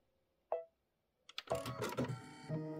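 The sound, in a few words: sewing machine stitching a mini quilt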